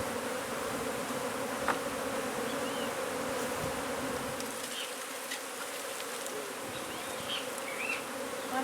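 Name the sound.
swarm of honey bees during hive removal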